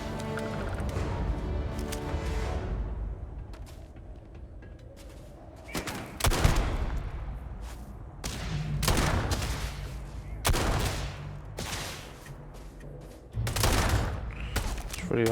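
Pistol shots in the sci-fi game Starfield, a string of sharp, loud cracks fired in irregular bursts with short gaps between, each trailing a brief echo over a low background rumble.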